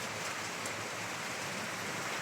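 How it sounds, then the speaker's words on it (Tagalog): Heavy rain pours down steadily in Batangas City, a dense, even hiss of falling water with no pauses or voices, heard at a fairly low level. "Napakalakas po ng ulan dito sa atin."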